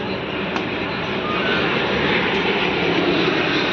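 A low, steady engine roar of an airplane flying low near an airport over Patna Eco Park swells gradually, filling the background with a broad rumbling drone.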